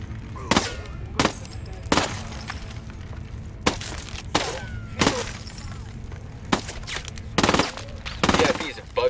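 Gunfire in Tom Clancy's Ghost Recon Wildlands, irregular loud bursts of shots and sharp cracks spaced a second or so apart, with some crashing debris and game sounds between them.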